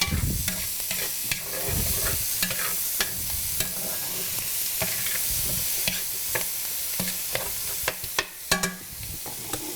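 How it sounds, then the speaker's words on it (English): Chicken seasoned with kosher salt and cayenne sizzles in tomato sauce in a pan as a utensil stirs it, with irregular clacks and scrapes over a steady, quiet frying hiss. "And we're going to stir this up."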